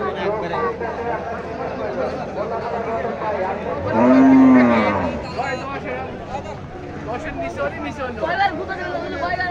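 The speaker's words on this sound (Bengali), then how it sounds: "আমরা দেখতে পাচ্ছি অনেক গরু হাটে দেখা যাচ্ছে" Cattle lowing loudly and close by at a crowded Qurbani cattle market in Satbaria village, Sirajganj, a single long moo rising over the steady murmur of people talking all around.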